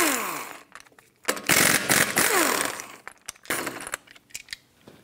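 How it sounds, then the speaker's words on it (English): Lug nuts on a 2012-2020 Ford Focus front wheel are spun off with a 19 mm socket on a power tool, giving loud bursts of rattling, whirring mechanical noise broken by short pauses and clinks. "take off all five of your lug nuts."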